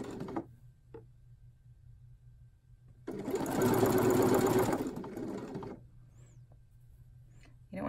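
Sewing machine stitching stretched binding onto a woven strappy tank top neckline, a short loud burst of rapid mechanical whirring and ticking for about two seconds between quiet gaps with faint handling sounds.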